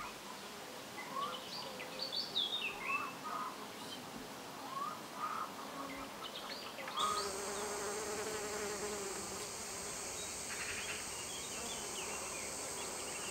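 Bees and bumblebees buzz around sunflowers outdoors, a continuous droning hum that grows fuller midway, with birds calling faintly in the background.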